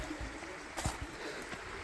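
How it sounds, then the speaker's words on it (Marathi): Small forest spring flowing in dense jungle near a riverbank with exposed roots, a soft steady trickle and gurgle of water running close by, with a few brief knocks and rustles over it. "रिस्क घेत घेत पाण्याचा झरा बघा"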